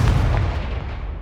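A Confringo spell explosion in Hogwarts Legacy booms close and loud, a single heavy blast whose low rumble and hiss decay over about a second, heard alone without talk.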